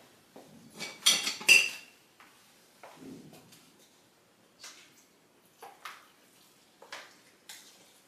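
Vegetable beef soup being stirred in a pot, with scattered clinks and scrapes of a utensil against the pot, louder at first and then coming in short, sparse bursts at close range, with no talking.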